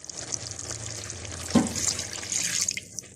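Water is poured into a pan of frying fish curry, setting off a brief splashing hiss in the middle of a steady background sizzle, then a softer bubbling afterward.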